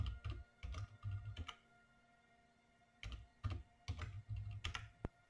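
Bursts of typing on a computer keyboard while entering a password at a Windows command prompt, quick clusters of close key clicks separated by a short pause, quiet and with no speech.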